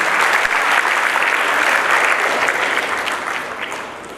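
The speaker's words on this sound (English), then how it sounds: "A big round of applause to our learning panelists, please." An audience at a capital markets programme gives panelists a round of applause, many hands clapping in a full, sustained roar that tapers slightly at the end.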